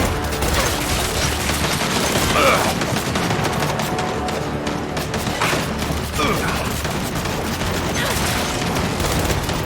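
A frag grenade blast and sustained gunfire in the shooter Gears 5 make a loud, dense, continuous roar of battle noise with scattered heavier thumps throughout.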